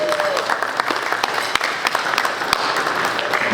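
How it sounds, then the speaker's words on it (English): An indoor audience at a track team brunch applauds steadily throughout, a dense wash of clapping with a few sharper individual claps standing out. "Let's give a big round of applause for Wendell."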